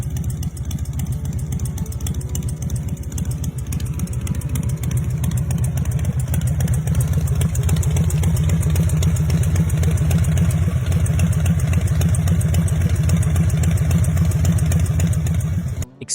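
A 2002 Harley-Davidson Softail Deuce motorcycle idles close by with a loud, steady, lumpy engine rumble that carries through without pause and with no talk.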